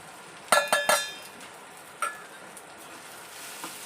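Spices and roasted tomato frying in oil for a homestyle cluster bean curry, with a few sharp clinks of a utensil near the start and a soft, steady sizzle underneath throughout.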